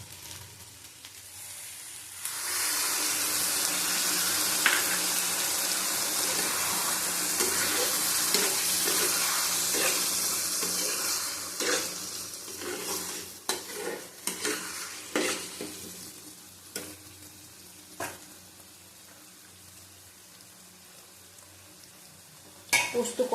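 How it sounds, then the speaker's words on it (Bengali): Poppy seed paste and water hitting a hot pan in a mung dal and potato curry, bursting into a loud, steady sizzle, then settling as a spoon stirs and scrapes with sharp clinks against the pan. "দেখো পোস্ত দিয়ে দিলাম, জল আর পোস্ত একসাথে দিয়ে দিচ্ছি।"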